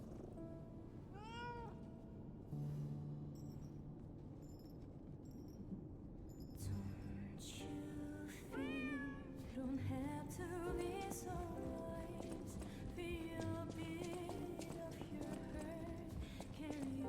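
A cat in the video game Lies of P meows several times in short, rising calls over quiet game ambience, with soft hoof-like clip-clop steps partway through.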